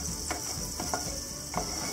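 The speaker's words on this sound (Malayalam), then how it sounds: "ഇനി ഈ കാഷ്യൂനട്ടും ഉണക്കമുന്തിരിയും ഒന്ന് ഫ്രൈ ചെയ്തെടുക്കാം." Cashews and raisins fry in ghee for carrot halwa, making a steady close sizzle with a few brief scraping stirs of a spoon against the pan.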